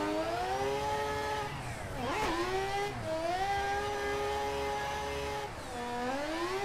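Mazda RX-8 rotary engine in Assetto Corsa, loud and close, with strong harmonic whine rising and falling through revs, a sharp dip and surge near two seconds, then sustained high revving and another shift near the end.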